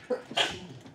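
A single short, sharp sneeze bursts out close by, with a faint breathy intake just before it.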